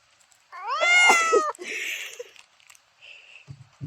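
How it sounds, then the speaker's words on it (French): A recorded cat meow plays inside a van as a drawn-out, wavering cry, followed by fainter mewing sounds and a few soft knocks. "Un chat qui miaule."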